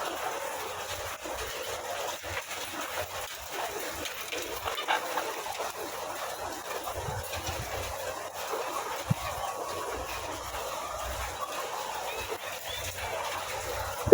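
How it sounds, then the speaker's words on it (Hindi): A large flock of chickens in a poultry farm shed in Pakistan clucks faintly and continuously, a soft scattered murmur of hens over low machine hum, distant and never loud. "ये जहाँ तक आपकी नज़र जाएगी ना, ये सारी सारी मुर्गी है"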